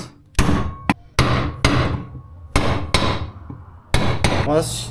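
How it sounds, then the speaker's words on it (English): Sharp hammer blows strike a bearing's outer race into a Yamaha DT 125 engine case about nine times in irregular bursts, each ringing briefly before the next hit, close and loud. "I'm just going to use this and hit the outside race of this bearing"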